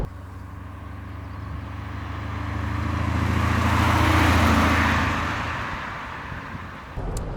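A 2014 Mercedes G500 Final Edition with a V8 engine being driven fast, its steady engine drone swelling to a loud peak midway and then easing off, with road and wind noise heard from inside the vehicle.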